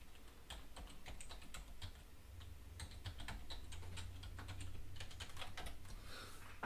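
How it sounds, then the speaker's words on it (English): Steady bursts of key clicks as a password is typed on a computer keyboard during a Pi-Hole install on an Ubuntu Server 16.04 virtual machine, close and continuous over a low background hum. "Helps if I type in the right password."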